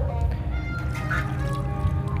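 Water is poured onto a bougainvillea bonsai, giving a continuous, close splashing and trickling sound as the soil is soaked, with a low steady hum underneath.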